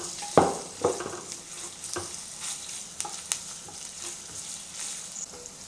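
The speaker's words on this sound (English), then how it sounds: "adding some oil to the pan to saute the ginger, garlic, and the onions until aromatic" Ginger, garlic and onions sauteing in oil in a pan, giving a soft steady sizzle with a few louder stirring scrapes near the start, heard alone without talk.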